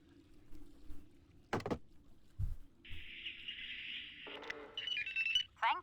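An electronic telephone ring in Zork: Grand Inquisitor, a steady tone followed by a brighter warbling chirp, heard fairly clearly against a quiet background with a few soft knocks and thumps.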